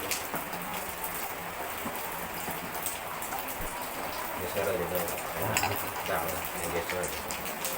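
Steady rain patters on a surface outdoors, a constant dense hiss with brief louder splashes, while people speak faintly beneath it.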